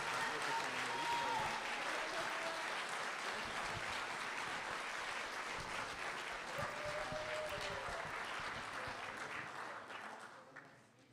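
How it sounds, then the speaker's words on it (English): A festival crowd at a short film festival gives filmmakers a steady round of applause. The clapping is dense and continuous for about ten seconds with faint voices mixed in, then fades out at the end. "So let's give a round of applause for the filmmakers and for everybody in Act 3."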